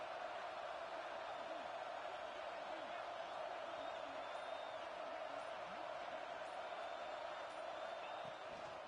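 Crowd noise from an American football video game, a steady roar of cheering spectators as the defense holds in the red zone, continuous and fairly even throughout with a commentator's voice over it.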